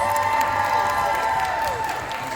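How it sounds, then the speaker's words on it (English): Audience at a cosplay masquerade contest during a collectors show applauds and cheers for the contestants, a steady crowd wash with a sustained tonal sound above it, loud and continuous throughout. "Can I have another round of applause for all of our contestants?"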